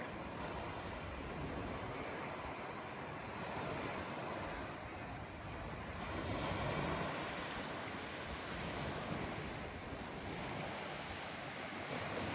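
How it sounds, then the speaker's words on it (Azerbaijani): Sea waves wash in a constant low roar at the seashore, swelling and receding gently, with wind buffeting the microphone; no voices. "Dənizin səsi, sakitçilik, huzur."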